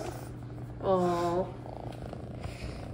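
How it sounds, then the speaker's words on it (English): A house cat purrs quietly and steadily in the background, with a brief voiced sound rising above it for about half a second. "I do enjoy hearing him purr"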